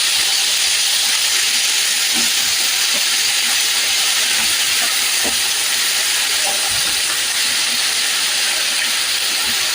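Bottle gourd pieces sautéing in a hot pan with onion and tomato give off a steady, loud, dense sizzle and hiss, continuous throughout with faint scattered clicks beneath.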